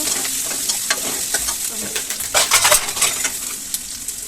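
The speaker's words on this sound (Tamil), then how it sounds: "தேவையான அளவு வெங்காயம் போட்டு நல்லா தாளிச்சுக்கோங்க" Onions fry in hot oil with a busy, close sizzle, broken by quick metallic scrapes and taps as a spoon stirs them around the pan, getting briefly louder midway.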